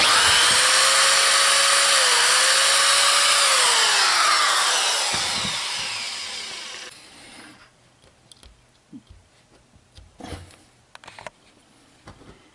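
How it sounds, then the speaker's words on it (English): A drill bores a pilot hole through plywood into an old computer-table top, a loud high whine that winds down and fades after about six seconds, followed by faint clatter and knocks. "I'm going to drill a pilot hole right through this plywood, right into the top of that computer table"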